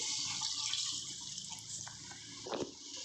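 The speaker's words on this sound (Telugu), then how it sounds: "ఇప్పుడు మనం వేగుతున్న మసాలాలో కొలిచి పెట్టుకున్న 2 గ్లాసుల నీళ్లు వేద్దామండి." Two glasses of water go into a pot of frying spices for cashew jeera rice, a quiet splashing pour and sizzle that peaks briefly near the end.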